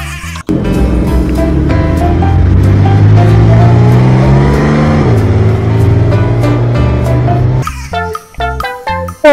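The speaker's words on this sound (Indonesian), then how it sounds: "Wadidaw, mobil balap" A racing car engine screams loudly and close, holding a high revving whine that rises and dips in pitch, then breaks into choppy bursts near the end.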